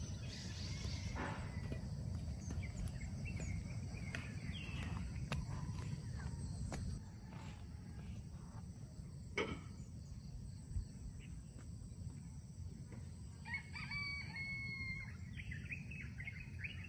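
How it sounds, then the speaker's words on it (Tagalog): Crickets and birds fill the air at a rural farm resort, with a soft continuous insect chirr, scattered distant bird calls and brief chirps over a low outdoor rumble. "Kung maririnig niyo yung mga kuliglig, mga ibon, yan."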